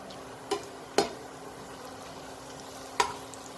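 Pappadam frying in hot oil for a Kerala-style dish, a faint continuous sizzle with three or four sharp spatters or clinks, close by and without talk.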